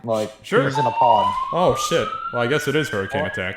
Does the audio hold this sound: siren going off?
yes